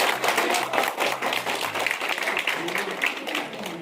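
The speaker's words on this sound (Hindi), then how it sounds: "जोरदार तालियां।" A crowd claps steadily at a school prize ceremony, dense applause filling the room with voices mixed in underneath.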